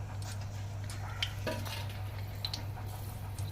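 Green chillies fry in oil in a pan, with a soft, low crackle, light scrapes and clinks of a utensil against the pan, and a steady low hum underneath.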